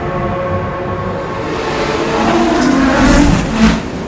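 Car engine revving in the Forza Horizon racing game, played with a PS5 DualSense controller, a steady mid-pitched engine drone that swells louder toward the end.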